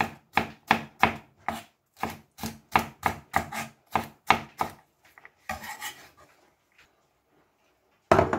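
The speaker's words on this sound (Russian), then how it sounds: "Сладкий перец очищаем и нарезаю небольшой, не крупной соломкой." A knife chops bell pepper into thin strips on a board in a quick, regular series of about sixteen crisp, close taps. A pause with faint handling noise follows, then one more sharp chop at the end.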